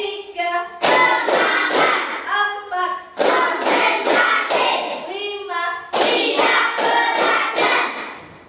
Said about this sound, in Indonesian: kita tepuk semangat. Tepuk 1, 2, 3, 4, 5.